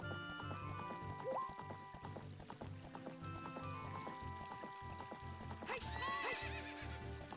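Horse whinnies and galloping hoofbeats from The Legend of Zelda: Ocarina of Time on the N64, a steady clip-clop rhythm running throughout with a sharp neigh rising near the end, all loud and close with game music underneath.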